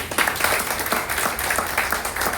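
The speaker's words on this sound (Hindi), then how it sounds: "ताली होना चाहिए" An audience claps in steady, dense applause that runs loud and close for the whole stretch, with many overlapping hand claps and no clear speech.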